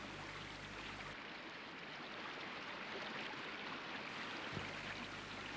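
The Ganges river flows in a steady broadband rush with a continuous hiss and no distinct splashes, held at an even moderate level throughout.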